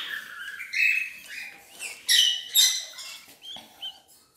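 Budgerigar chicks in a nest box give high, scratchy chirps and squeaks in short overlapping bursts, close and fairly loud, with brief pauses between calls.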